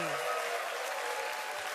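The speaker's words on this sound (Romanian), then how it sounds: "Doamnelor și domnilor, aplauze pentru Iohannes!" Brief burst of audience applause for magician Johannes on a Romanian television magic show, dense, bright clapping with a short voiced cheer at the very start.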